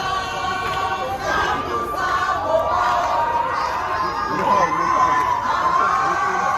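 A large enthusiastic crowd at Abidjan's Félix Houphouët-Boigny airport welcomes Koffi Olomidé, a dense continuous roar of shouting and cheering voices that swells and holds steady throughout.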